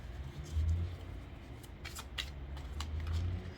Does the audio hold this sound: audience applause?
no